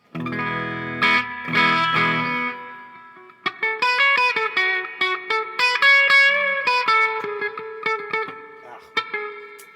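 Electric guitar chords and picked notes ring out with a lush reverb wash, sustained tails blooming after each strum, loud and close.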